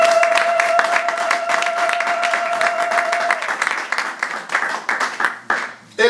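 A church congregation applauds loudly and steadily, many hands clapping at once, with a sustained tone at first and the clapping thinning into scattered claps at the end.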